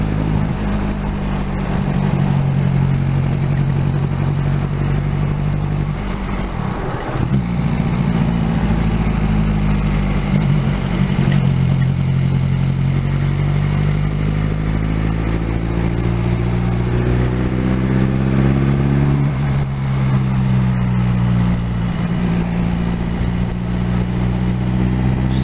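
A Reliant 750 trike engine fitted with a Scorpion sports exhaust runs loud and steady on the move, its throaty drone rising and falling in pitch as the revs change through gear shifts, with no talking.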